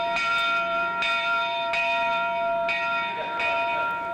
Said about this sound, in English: Now it's the next day, and here's Tom ringing the bell on the oldest working steam locomotive in the world.